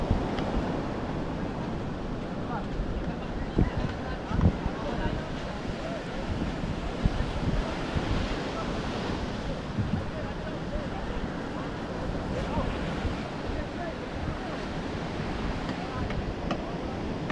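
Large ocean waves churn in a rough, continuous rumble of surf while heavy wind buffets the microphone in uneven gusts.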